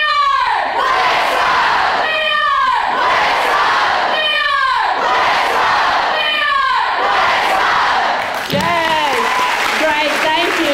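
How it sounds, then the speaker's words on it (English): A large school crowd at a Communities in Schools kickoff rally chants a cheer in unison, four loud rhythmic shouted calls followed by a burst of cheering, all close and filling the space. "we're going to do a kickoff cheer"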